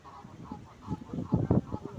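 Geese honking in a London park, a small flock calling close by in short nasal bursts that grow louder and more crowded toward the end, over faint outdoor background noise.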